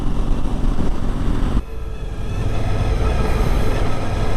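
A heavy train rumbles past close by near Portage la Prairie, a steady low roar with rattling that drops briefly, then builds again as the cars keep rolling.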